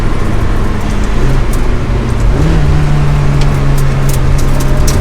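Ferrari 360 Challenge Stradale under hard acceleration, a loud close engine note climbing steadily through a gear change, with road and wind noise throughout.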